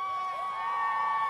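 A live audience cheers and whoops at a political talk, a brief sustained burst of crowd voices with ringing high shouts, fairly close and loud.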